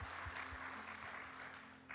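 A church congregation at a worship service breaks into brief, scattered applause with a few steady claps at moderate volume.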